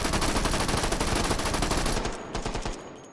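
Full-auto gunfire in H3VR, a loud continuous burst lasting about two seconds that cuts off into a few scattered shots and fading noise.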